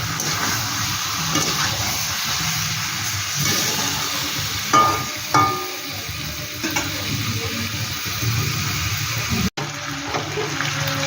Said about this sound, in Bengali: সাতলানো একটু দেখে দেখে আমি সাঁতলাই নিই তাহলে বেশ সুন্দর একটা ভাজা ভাজা টাইপের হয়ে যাবে